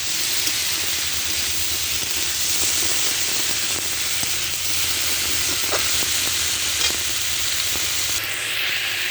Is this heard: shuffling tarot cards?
no